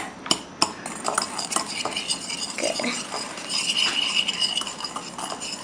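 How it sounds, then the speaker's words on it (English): A spoon stirring and mashing white and brown sugar together in a bowl, steady scraping with clinks against the bowl, close and moderately loud, no talk. "I just want to mix them because they're 2 different colors, and you want to smash up the big pieces of sugar"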